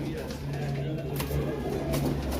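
Pigeons, among them a teddy pigeon, coo in low throaty bursts at a crowded pigeon market in Lahore, with voices and general bustle mixed in close by.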